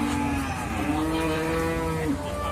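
Simmental cattle at a livestock market in Muntilan give a long, loud, drawn-out moo that fills the whole stretch, sitting close and clear over a busy background.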